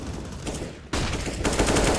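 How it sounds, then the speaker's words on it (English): Rapid gunfire from the video game CS:GO during a competitive collegiate match, dense bursts of automatic shots that grow louder and busier partway through, with no voices over them. "Gunfire goes out."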